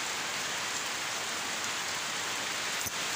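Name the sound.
heavy rain falling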